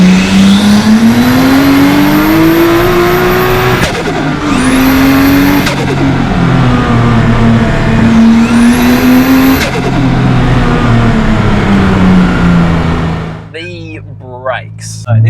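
A Nissan Skyline R33 GTST with a built motor, 251 kW at the rear wheels and Haltech anti-lag, accelerates hard: loud, rising engine howl through several quick gear changes, then backing off as the revs fall away.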